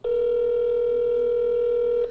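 A single long telephone ring tone on an outgoing call, a steady loud electronic tone that holds for about two seconds and then stops, heard alone.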